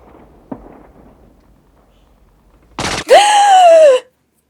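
Gunfire from the war film Full Metal Jacket: a sharp broadband burst lasting about a third of a second, then a loud sustained scream-like tonal sound, after faint low rumble and a brief thump.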